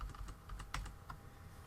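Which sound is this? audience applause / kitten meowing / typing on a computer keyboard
typing on a computer keyboard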